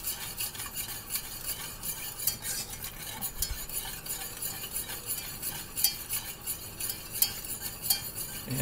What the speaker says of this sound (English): And again, you stir until your arm falls off.